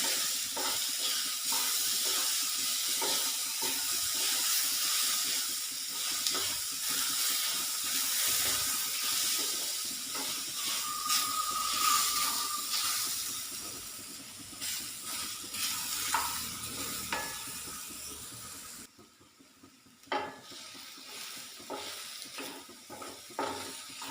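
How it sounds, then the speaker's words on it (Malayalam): Banana pieces sautéing in a pan, a continuous close hiss and sizzle with occasional stirring scrapes that quiets down near the end, no talking. "നന്നായിട്ടൊന്ന് വാട്ടിയെടുക്കാം കേട്ടോ."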